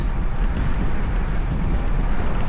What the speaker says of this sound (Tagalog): Grabe yung hangin, walang katigil-tigil, walang sawa talaga yung bagyo